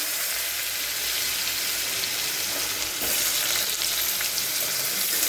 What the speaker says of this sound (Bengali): আলুগুলো ভালো করে ভাজা হোক।